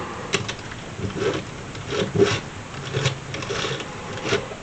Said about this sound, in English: that motor just drives the camera up and down